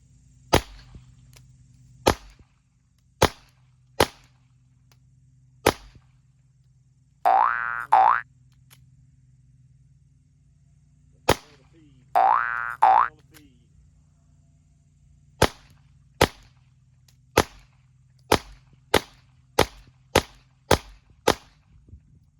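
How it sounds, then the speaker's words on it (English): A fumbled reload of a CZ P-09C Nocturne pistol: a series of sharp, isolated metallic clacks and snaps spaced across quiet gaps, with two longer ringing, springy rattles in the middle. "How to flub a reload."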